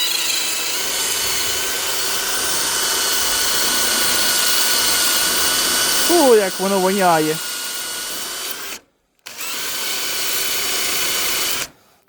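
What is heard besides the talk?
cordless drill sanding a meteorite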